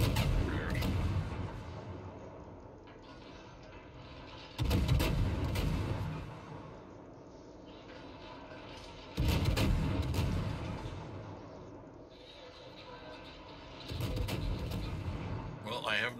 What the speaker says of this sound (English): Now I have to use my gun.